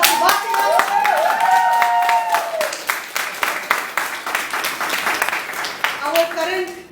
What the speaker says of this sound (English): I want to interrupt this session for all of you to give a big round of applause to Bharti.